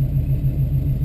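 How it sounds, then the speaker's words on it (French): A 1968 Ford Mustang with a 289 cubic inch V8 and an Edelbrock four-barrel carburetor and intake runs at a steady idle, giving a loud, close, even low rumble with no talking. "Un moteur V8 de 289 cubic inch."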